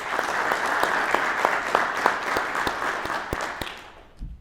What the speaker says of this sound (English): please give the guests of 1168 a round of applause